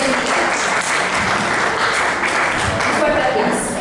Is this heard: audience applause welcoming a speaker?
yes